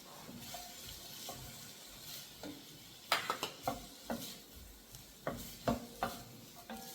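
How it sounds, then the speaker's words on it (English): Sliced ingredients sautéing in a pot, stirred with a wooden spoon: soft intermittent scrapes and knocks over a faint sizzle, close and fairly quiet, with no talk. "Get that sauteing."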